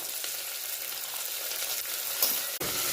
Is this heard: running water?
no